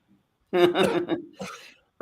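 A man coughs in a short burst of two or three harsh, throaty hacks, close and fairly loud, during a conversation indoors.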